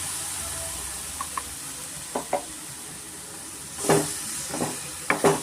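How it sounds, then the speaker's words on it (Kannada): Tomato puree going into a sizzling pan of spicy pork curry, a steady hiss of frying with brief scraping stirs and a louder burst of sizzle as the puree hits the hot oil. "ಇವಾಗ ಇದಕ್ಕೆ ನಾನು ಟೊಮೆಟೊ ಪ್ಯೂರಿ ಮಾಡಿದ್ದೀನಲ್ಲ ಅದು ಸೇರಿಸ್ತಾ ಇದ್ದೀನಿ"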